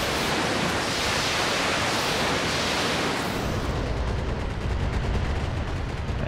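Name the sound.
mech weapons firing in the video game BattleTech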